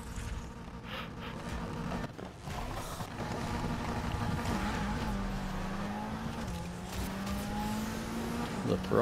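Ferrari racing in Need for Speed Heat, a steady engine drone with rising revs and a gear change, tire and impact noises mixed in, running continuously under a talking voice.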